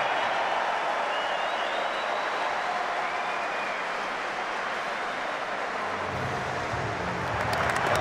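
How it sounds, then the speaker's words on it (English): At a Rugby World Cup 2019 match between New Zealand and Ireland, the Irish crowd gives Rory Best a standing ovation: a steady, dense wash of applause and cheering from a big stadium audience, heard at a distance and sustained. "The Irish crowd lost by 40 points, but just giving Rory Best the ovation he deserved."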